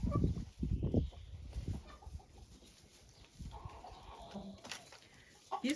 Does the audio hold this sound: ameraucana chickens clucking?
yes